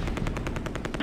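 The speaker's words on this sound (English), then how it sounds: "We're under heavy fire." Rapid machine gun fire from the World War II strategy game Close Combat A Bridge Too Far rattles in a fast, even burst of about a dozen shots, loud and close, with no talk.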